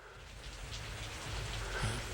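Rainfall from the Blade Runner tears in rain scene, a steady soft hiss of drops with a low rumble beneath, continuous and moderately distant.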